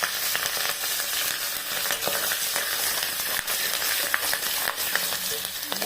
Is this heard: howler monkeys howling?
no